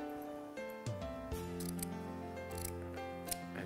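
Scissors snip through ribbon wrapped around a DIY succulent bridal bouquet stem, a few close crisp cuts over a steady background hum.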